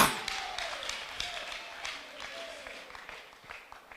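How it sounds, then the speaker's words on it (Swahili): A church congregation breaks into scattered applause mixed with voices during a worship service, the clapping close and lively, with a wavering high vocal cry like ululation sliding through the middle. "Makofi na vigelegele kwa mfalme"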